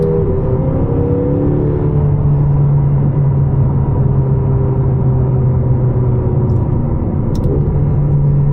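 Steady engine drone of a 2022 McLaren GT under way, a continuous loud rumble with a low tonal line that holds and shifts briefly as quick gear changes pass, no talking.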